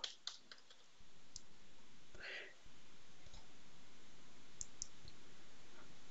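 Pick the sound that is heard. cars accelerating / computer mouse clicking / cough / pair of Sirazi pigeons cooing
computer mouse clicking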